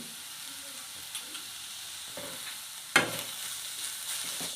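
Capsicum and cabbage stirred with salt in a hot pan for a veg sandwich filling, a soft continuous sizzle with occasional scrapes and one sharper clack of the spoon against the pan, no voices.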